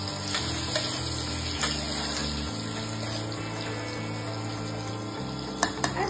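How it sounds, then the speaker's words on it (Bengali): Chopped onion and vegetables frying in a pan while cooking vegetable khichuri, giving a steady sizzle with soft intermittent clinks and stirring, no talk. "পেঁয়াজ কুচি দিয়ে একটু নেড়ে নেবো, তারপরে আমি সবজিগুলো হালকা ভেজে নেবো।"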